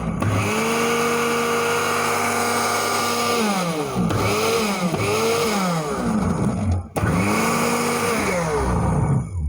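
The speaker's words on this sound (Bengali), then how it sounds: "দেখেন এত স্পিড যে মাংস কিন্তু মুহূর্তে একদম চপিং হয়ে যাবে" A Miyako electric meat chopper runs with a loud, steady high-speed motor whine that drops and rises repeatedly as the blades bog and spin back up, with a brief stop near the end before restarting.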